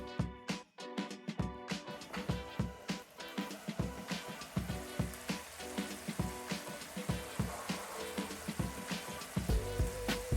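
Ackee and saltfish with thyme cooks in a pan, giving a soft, continuous crackle of small pops and bubbling that keeps an even, quiet pace throughout.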